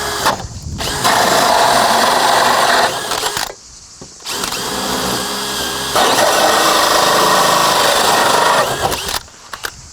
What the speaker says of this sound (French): il va falloir que je fasse un trou pour pouvoir faire passer mon crochet